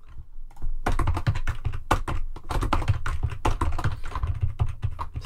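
Rapid, uneven keystrokes clatter on a computer keyboard while code is entered, close and fairly loud, with short pauses between bursts of taps and no talking.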